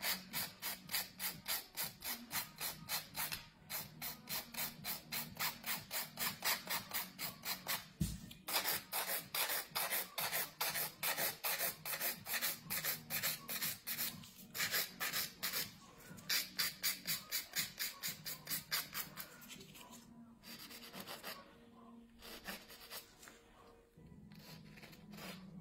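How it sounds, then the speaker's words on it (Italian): A wooden nail file scrapes the edge of a gel nail in fast, even back-and-forth strokes, a close, rhythmic rasping that runs steadily with only brief pauses. "vado a definirmi il muretto con una wooden, una lima di legno che ci permetterà appunto estrema definizione"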